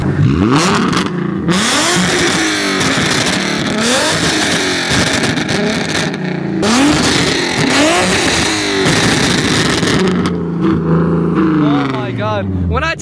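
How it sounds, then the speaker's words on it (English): A loud Infiniti G37 exhaust with Tomei ISR system and longtube headers revs hard in several bursts, roaring up and falling back, with people's voices and chatter around it. "Give it a couple revs."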